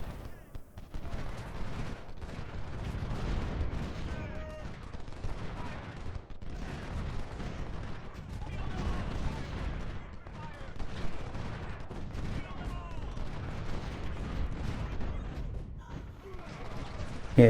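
Continuous musket volleys and artillery thuds from an Ultimate General: Civil War battle at First Bull Run rumble at a distance, a steady crackling fusillade with no break throughout.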